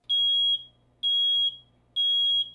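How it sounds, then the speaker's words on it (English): A home smoke alarm sounds three loud, piercing electronic beeps, each about half a second long and evenly spaced, with a faint steady hum underneath and no voices. "If you hear this sound in your home, it means that smoke is present and there may be a fire in your home or the next apartment."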